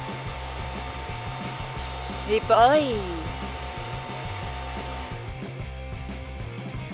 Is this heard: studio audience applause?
no